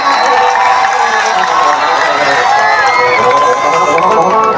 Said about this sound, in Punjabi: ਇੱਕ ਵਾਰੀ ਆਪਣੇ ਨਾਮ ਤੇ ਤਾੜੀਆਂ ਮਾਰ ਦਿਓ